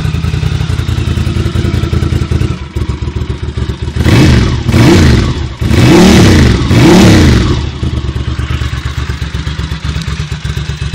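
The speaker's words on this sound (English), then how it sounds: "As you can hear, the custom exhaust is much nicer than the stock." A 1999 Ducati M750 L-twin 750 with a custom exhaust idles close and loud, then blips the throttle in four sharp revs in quick succession before dropping back to a lumpy idle.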